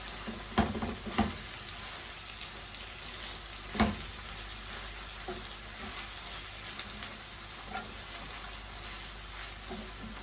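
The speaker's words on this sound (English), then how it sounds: "And I'm just gonna stir everything together." Ackee and saltfish seasoned with black pepper frying in a pot while being stirred: a steady soft sizzle runs throughout, with a few louder scrapes and clacks of the spoon near the start and middle.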